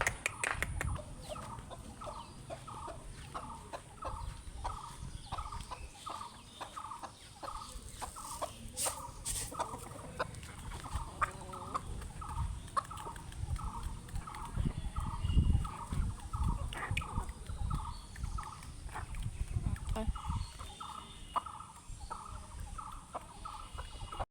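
Chickens call in a rapid, repetitive series of clucks and gobbling notes as they are fed, with pecking and scattered clicks nearby, no talking.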